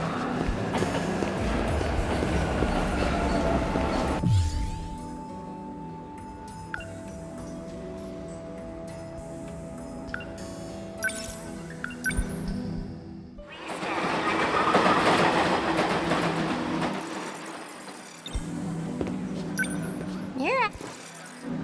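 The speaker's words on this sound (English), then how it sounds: "The train's already here." A train pulls into a station in the video game 13 Sentinels Aegis Rim, with rumbling, clattering rail noise and a sustained tone, swelling and fading in bursts while characters talk over it.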